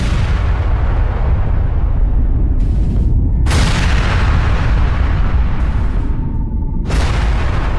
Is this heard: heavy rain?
no